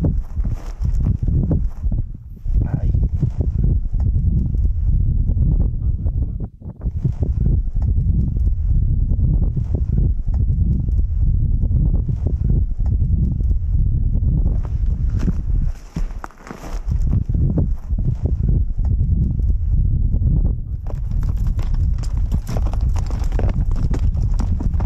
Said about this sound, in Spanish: nuestro noble corcel nos llevará en su lomo